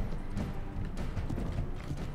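Horses gallop in Mount & Blade Warband during a battle, giving a dense, continuous drum of hooves with clattering and scraping layered over it, close and steady throughout.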